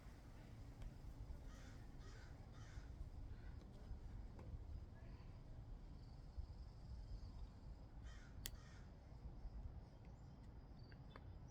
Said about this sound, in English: Okay, bird, stop mocking me.